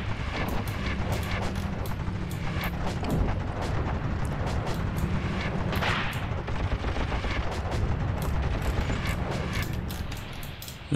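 Battle gunfire in the tank game Tank Warfare: Tunisia 1943, dense continuous bursts of shots and heavier booms layered over a rumbling mechanical tank drone, loud and unbroken throughout.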